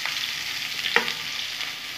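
Chopped matar greens go into a pan of fried eggplant and hot oil, giving a steady sizzle with a sharp clatter near the middle, no voices.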